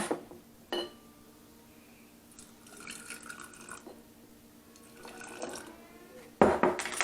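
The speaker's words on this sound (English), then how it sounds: "And I will pour in the kombucha." Kombucha splashes and trickles into a jar in uneven bursts, with soft clinks and handling noises and a louder knock near the end.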